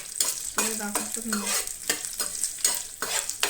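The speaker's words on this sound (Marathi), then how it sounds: "तोय बीन कांदो बरो गरम करून घेयात" Onions fry in a pan for a dal recipe, a steady close sizzle with scraping and stirring sounds throughout and a brief faint tonal hum in the middle.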